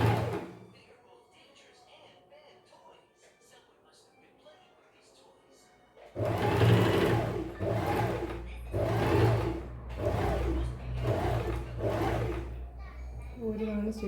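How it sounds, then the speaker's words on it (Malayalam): A sewing machine stitching a half-inch double seam on a short kurti shoulder starts after a quiet stretch of speech, running loud and close in several rhythmic bursts while someone talks over it. "അപ്പോൾ അര ഇഞ്ച് സ്റ്റിച്ച് ചെയ്ത് കൊടുക്കുക. ഡബിൾ സ്റ്റിച്ച് ചെയ്ത് കൊടുക്കണം."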